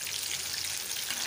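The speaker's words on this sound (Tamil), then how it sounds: "எண்ணெய் நல்லா சூடாகிடுச்சு. காடையை போட்டுட்டு மீடியம் ஃப்ளேமில் வச்சுக்கலாம்" Quail pieces deep-frying in hot oil over a medium flame give a steady, dense crackling sizzle that holds even and close for the whole moment, with no voices.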